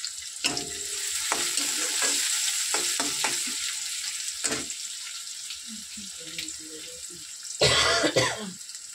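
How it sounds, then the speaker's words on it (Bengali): Someone coughs repeatedly and clears their throat beside a pan of onions frying in oil, the harsh bursts coming close and loud over a constant background sizzle, with a final louder coughing fit near the end. "খুব কাশি হচ্ছে।"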